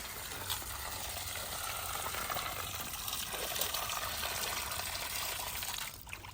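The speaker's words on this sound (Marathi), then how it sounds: "आपण आता मिरच्या स्वच्छ पाण्याने धुवून घ्यायचे" Green chillies being washed in clean water, a steady, continuous rush and splash of running water close by, lasting throughout and easing off at the very end.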